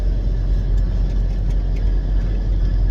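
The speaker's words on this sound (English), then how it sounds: "I'm driving right now" Steady low car engine rumble from inside a moving car, continuous and fairly loud with broadband road noise, no voices.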